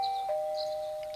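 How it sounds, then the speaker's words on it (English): A single doorbell chime from the Persona 4 Golden video game rings out alone, a sustained ding-dong tone held clearly and moderately loud with no talking. "Someone ring the doorbell on the limousine?"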